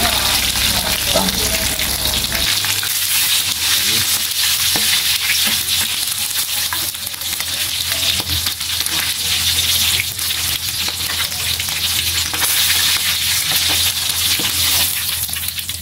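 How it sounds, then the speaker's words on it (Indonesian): Steady, loud sizzling and bubbling of chicken pieces frying in hot oil, continuous throughout with occasional crackles and no talking. "kita goreng ayamnya kita goreng 3 potong ayam"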